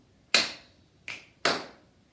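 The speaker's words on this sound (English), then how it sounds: "So it's a clap, click, clap, and there is a rhythm with it." Hand claps and a finger click in a performing-arts rhythm game: three sharp, close hits spaced unevenly, a loud clap, a lighter click, then another loud clap, with no talking.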